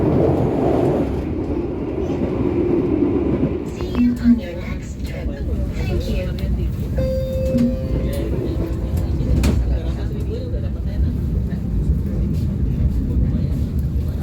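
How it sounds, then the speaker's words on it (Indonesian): Harina economy-premium passenger train pulling into Surabaya Pasar Turi terminus, a steady loud rumble of rolling stock with brief squeals and tonal hums, heard from aboard, with a person talking over it. "Kereta api Harina sedang merapat di stasiun Surabaya Pasar Turi, yang mana stasiun ini menjadi pemberhentian terakhirnya ya"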